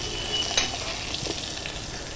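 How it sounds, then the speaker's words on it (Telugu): Chana dal, cumin and curry leaves shallow-frying in a pan give a steady, close sizzle with brief scraping stirs throughout. "ఒకసారి ఇలా ఫ్రై చేసుకోవాలి, అదే ఇలా షాలో ఫ్రై లాగా అనాలి"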